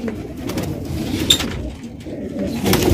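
Fancy pigeons coo in low, throaty murmurs nearby, several birds overlapping in their coops with soft rustling and occasional wing flutters.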